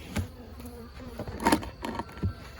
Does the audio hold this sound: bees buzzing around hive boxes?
yes